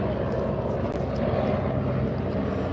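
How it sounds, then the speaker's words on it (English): A police helicopter flies overhead, its steady, fairly distant rotor and engine drone holding constant throughout with no voices. "here comes another helicopter, but it's a police helicopter"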